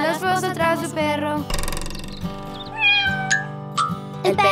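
A cat meows several times in bright, rising and falling calls over a cheerful Spanish-language children's nursery song with steady music and singing.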